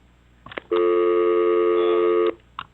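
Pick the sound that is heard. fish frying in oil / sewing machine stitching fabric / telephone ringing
telephone ringing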